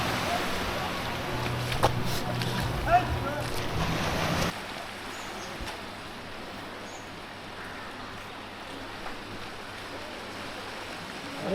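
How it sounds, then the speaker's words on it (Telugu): Ocean waves wash ashore at Arambol beach in Goa as a steady, hissing surf roar. A louder stretch with wind buffeting and a low engine-like hum comes first, then a softer continuous wash with no voices. "ఎంత ప్రశాంతంగా ఉందంటే అలలు చప్పులు తప్ప మనకేం వినిపించవు"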